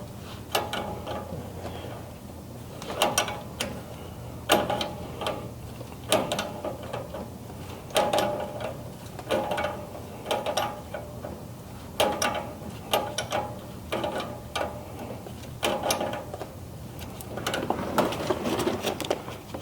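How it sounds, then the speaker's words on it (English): A ratchet wrench tightens a brake line under a Chevy C10 pickup, giving repeated bursts of quick mechanical clicks in an uneven rhythm, close and fairly clear, with no one talking. "Tighten this brake line up."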